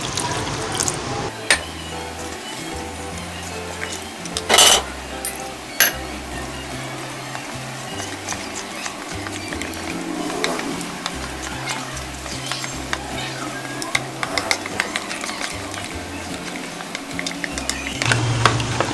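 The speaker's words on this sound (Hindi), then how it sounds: "इस आटे को पानी डाल के घोलना है।" Wheat flour is stirred with water in a pot of buffalo trotter stew: soft, intermittent wet stirring and scraping with occasional clatter, fairly quiet, punctuated by a few sharp knocks and brief background voices.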